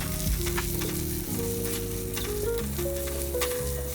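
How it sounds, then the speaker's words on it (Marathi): Onions frying over a medium gas flame in a kadhai for butter chicken, a steady close sizzle with occasional stirring scrapes and a constant low hum beneath, no talking. "सगळ्यात पहिले आपण जे कांदे आहेत ते आपण फ्राय करून घेऊया कढईमध्ये"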